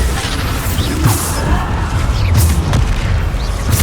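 Booming blasts from the Bombarda blasting spell in Hogwarts Legacy, several heavy explosions and crashes going off one after another, loud and close over a continuous low rumble.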